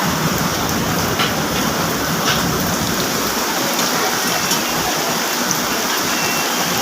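Heavy rain pouring down steadily, a dense, loud, unbroken hiss of drops drumming on surfaces close by, with no voices.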